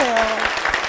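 A church congregation claps together during a worship service, a brief burst of broadband applause filling the space while a voice briefly rings over the start.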